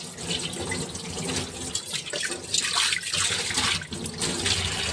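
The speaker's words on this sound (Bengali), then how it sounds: "তো কড়াইটা ধুয়ে নিলাম" Running tap water splashes steadily into a sink as a karahi (wok) is rinsed out after cooking, with a broad continuous gush and small clatters of the pan throughout, close and fairly loud with no talking.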